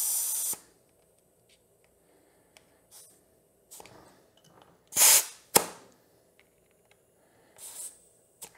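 Air hisses in short, sharp bursts while a Dunlop MX53 rear dirt bike tire is inflated, with a few close spurts separated by near silence and faint handling clicks.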